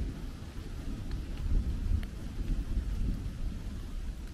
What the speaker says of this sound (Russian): Хоть и дождик, но тем не менее.